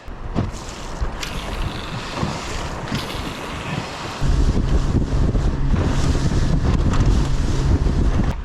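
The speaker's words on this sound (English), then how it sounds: "I think it's a little bit too windy." Strong wind buffets the microphone at a beach by the sea with a heavy, continuous low roar that grows louder halfway through, over a wash of sea and boat noise.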